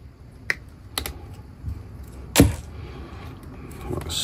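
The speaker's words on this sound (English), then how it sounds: "So let's take these old ring terminals off first. I need a new pair of snips" Snips cut old ring terminals off the leads of a Samlex SEC-1235P-M 30 amp switching power supply, giving a few sharp, close clicks spaced apart, with the loudest snap near the middle and quiet handling noise between them.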